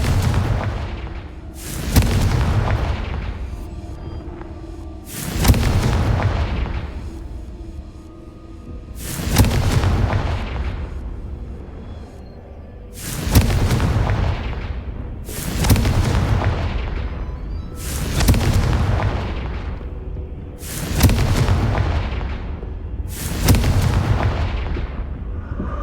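Hogwarts Legacy Confringo blasting spell explosions: eight heavy booming blasts go off at a steady pace a few seconds apart. Each one is loud and close, with a rumbling decay that lingers before the next.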